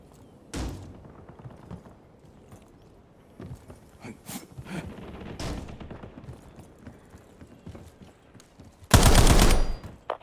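Gunfire in GTA V: scattered single shots and short bursts across the clip, ending in a loud sustained volley near the end, with quieter game sounds between.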